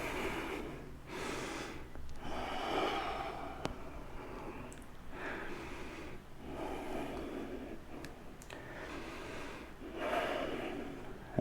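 Slow, deep yoga breaths close to the microphone, several long inhales and exhales in an even rhythm, audible and unhurried, with no talking.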